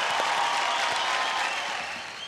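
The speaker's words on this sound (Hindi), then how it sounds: "आशा जी के लिए एक बार जोरदार तालियां हो जाए." A studio audience at the Superstar Singer 2 singing show applauds for Asha ji in a steady, dense wash of clapping that fades slightly toward the end; no talk is heard over it.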